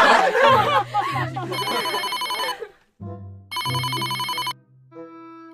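A phone rings in Sakura School Simulator with two loud electronic ring bursts separated by a short gap, after a voice speaks at the start.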